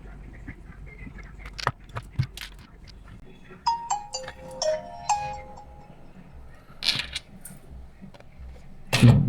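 A Nokia 3210 4G feature phone powers on and plays a short startup chime: a clear, bright melody of a few rising tones in the middle of the clip, amid handling clicks and taps.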